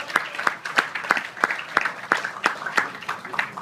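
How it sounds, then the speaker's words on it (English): An audience applauds a speaker at a talk on medical insurance, a short burst of sparse, distinct claps ringing out steadily with no voices over it. "let's give a big round of applause to Mr. Sonny Tan."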